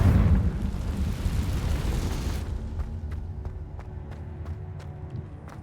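A Confringo blast erupts in a Harry Potter video game: a loud, roaring burst that rumbles for a couple of seconds, then fades into quieter ambience with scattered light ticks.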